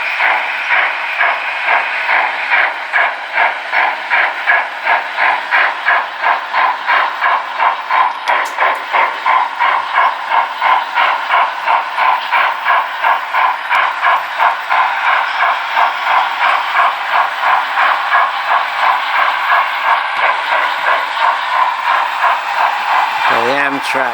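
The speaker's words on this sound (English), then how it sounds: "The Amtrak is still going." Model Amtrak train running on an automated layout, a steady rhythmic clickety-clack of wheels over rail joints, loud and close, continuing evenly throughout.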